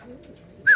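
A pigeon flying free gives a single short, bright call at the very end of a brief quiet moment.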